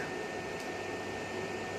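A small fan runs off a 1500 W 12 V inverter fed by a weak battery, giving a steady, even whirring hum with no pauses and no talk.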